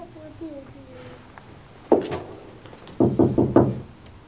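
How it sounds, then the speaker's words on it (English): Knocking on a door during a stage performance of Macbeth: a single thump, then a rapid cluster of four knocks, close and fairly loud, after a man's brief speech. "Whence is that knocking?"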